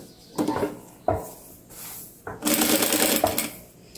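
A sewing machine topstitching log cabin patchwork fabric runs in short bursts, with brief stops between them and a longer steady run near the end, loud and close.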